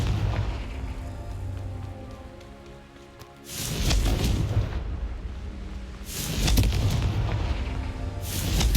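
The Confringo fire spell detonates in Hogwarts Legacy with loud, rumbling blasts that repeat in broad bursts over a steady crackling, rain-like hiss of background game noise.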